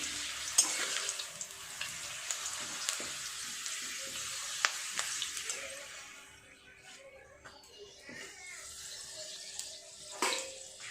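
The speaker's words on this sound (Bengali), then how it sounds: "পাঁপড়টা ভাজা করে নিই।" Papad frying in hot oil gives a soft, crackling sizzle with scattered sharp clicks and pops. It eases off partway through, then picks up again, fairly quiet and with no talking.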